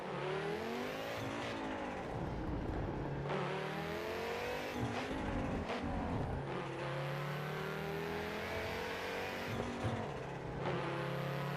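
A racing car's engine in the Assetto Corsa EVO video game revs hard and climbs through the gears, with repeated rising pitch sweeps and sharp drops at each shift, loud and continuous.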